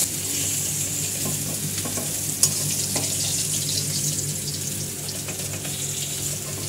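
Pointed gourd (potol) pieces fry steadily in hot oil in a pan as they are turned over, a continuous close sizzle with a brief clink partway through and no talking.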